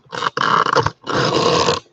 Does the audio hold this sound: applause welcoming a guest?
no